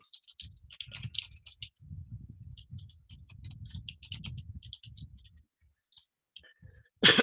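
Rapid bursts of clicking keystrokes on a computer keyboard come from close by as a message is typed, and the sequence ends in a single louder tap.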